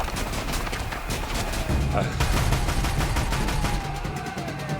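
Gunfire in Horizon Zero Dawn Remastered comes as a steady stream of rapid, repeated shots. It sounds like a sustained fusillade that carries on throughout, with faint game voices and effects mixed underneath.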